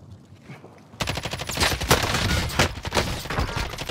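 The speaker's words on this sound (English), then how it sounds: "They're shooting." Gunfire in the video game Call of Duty Modern Warfare: after a second of quiet, a loud burst of rapid automatic shots and overlapping cracks fills the remaining few seconds.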